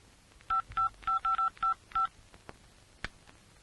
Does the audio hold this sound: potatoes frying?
no